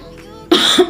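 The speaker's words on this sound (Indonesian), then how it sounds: "Batuk" A single sharp cough bursts out after a brief quiet moment, followed by a short second cough, close and loud.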